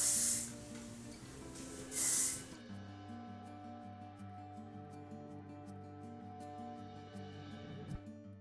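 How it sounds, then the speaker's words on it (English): Hairspray hisses from an aerosol can onto hair in two short loud bursts over quiet background music, the second a bit after the first. "So I'm just gonna use a little bit of hairspray."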